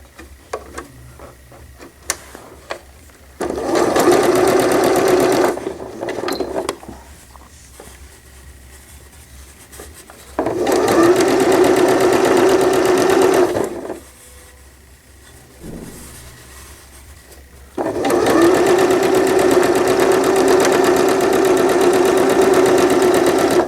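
A sewing machine hems the sleeve of a newborn gown, running in three long steady bursts with quieter gaps and small clicks between them.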